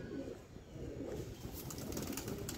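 Pigeons flutter and shuffle nearby, with soft wingbeats and faint cooing over a low background hum, fairly quiet throughout.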